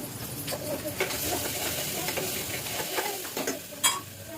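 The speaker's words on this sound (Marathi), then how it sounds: "मसाले छान परतून झाल्यानंतर" Onion, tomato, turmeric, red chilli and onion masala sautéing in a pan for an everyday home-cooked dish, with a steady close sizzle and repeated scraping stir strokes throughout, plus a sharper clink near the end.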